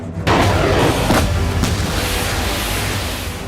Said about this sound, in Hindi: रूसी सैनिक तोपों और रॉकेट सिस्टम से यूक्रेनी सेना के ठिकानों पर जबरदस्त हमले कर रहे हैं